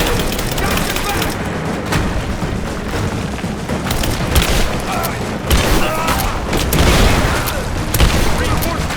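Gunfire in the action video game Rise of the Tomb Raider erupts in dense, loud bursts of shots and booms throughout, mixed with shouted voices of soldiers in combat.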